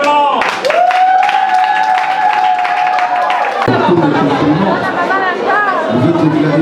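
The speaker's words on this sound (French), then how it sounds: "Sous vos applaudissements." Wedding guests applaud the newlyweds at a French-language ceremony, a steady burst of clapping mixed with crowd chatter and voices, with a sustained musical tone early on.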